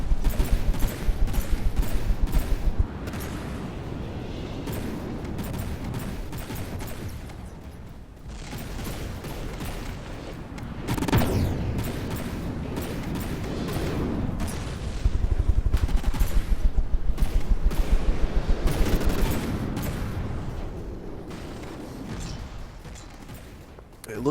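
Advanced custom cannons trade fire in a video game battle, with dense bursts of rapid, repeated blasts rising and falling in waves, almost no voices over them.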